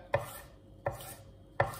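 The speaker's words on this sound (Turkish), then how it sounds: "neden böyle ince ince doğruyorum?" A knife finely chops bell pepper on a cutting board: three sharp, evenly spaced knocks, fairly close and quiet, with faint room noise between them and no talking.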